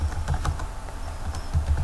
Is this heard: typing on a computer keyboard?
yes